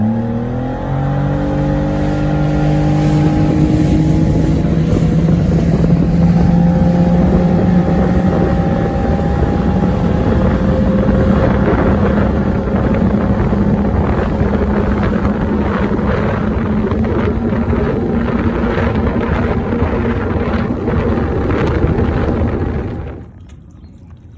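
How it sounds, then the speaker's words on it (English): A motorboat engine roars and rises in pitch as the boat accelerates onto plane, steady and loud with wind buffeting, then cuts off abruptly at the end. "you'll see the difference in the smoothness of the boat getting on plane and traveling"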